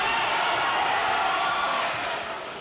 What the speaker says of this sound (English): Crowd reacting every time Boom Boom Mancini lands.